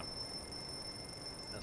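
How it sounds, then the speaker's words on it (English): A driving timer alarm in the truck-driving game Euro Truck Simulator 2 sounds as a faint, steady high-pitched electronic tone held for under two seconds over a low background hum. "that's my alarm for my timer, my driving timer."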